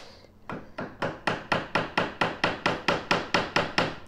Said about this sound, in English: We're trying out the chisel